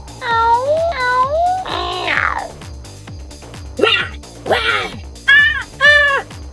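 Cartoon cat meows in a Toca Boca game, several rising and falling calls in a row, loud and close, with a synthetic hiss-like yowl among them over light background music.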